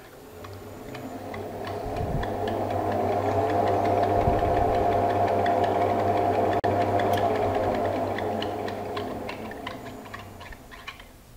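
An Elliott 10M metal shaper runs after power-on, its motor humming steadily under a rapid, regular mechanical ticking that swells to full level and holds, with a few heavier knocks.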